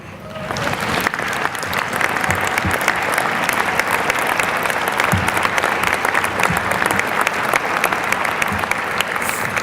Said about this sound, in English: give a round of applause to those special people who've helped make today a reality